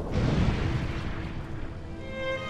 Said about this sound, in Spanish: A no ser que de esa explosión salga con vida.